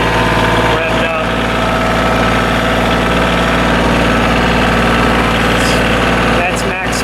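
A Kioti CK27 compact tractor engine runs steadily at maximum revs in low gear, a constant droning hum with a rough mechanical vibration, close by and loud throughout.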